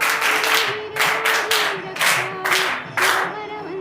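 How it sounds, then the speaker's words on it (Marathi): Schoolchildren at a school eco-friendly Ganesh idol event clap in several short, loud bursts with brief gaps between them, a crowded burst of hands close by, with some voices mixed in. "त्या मुलींसाठी आणि पियुषसाठी सर्वांनी टाळ्या वाजवायच्या"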